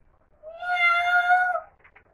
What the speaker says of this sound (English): It's only a cat.